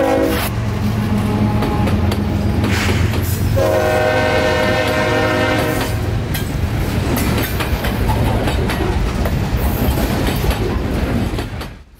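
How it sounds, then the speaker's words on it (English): A 30-car loaded juice train pulled by two GE ES4400 diesel locomotives rumbles steadily past, with a long horn blast partway through and continuous rolling wheel noise, loud and close throughout. "2 GE ES4400 locomotives assigned to pull this 30-car long loaded Juice Train north out of Bradenton"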